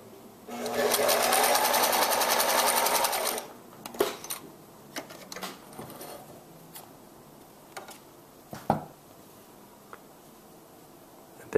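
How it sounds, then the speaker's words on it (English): A Singer sewing machine stitching a scrap of fabric runs in a steady, close buzz for about three seconds, followed by scattered clicks and handling sounds. "Now you're ready to sew. So I have a little scrap piece of fabric here to show you how this works."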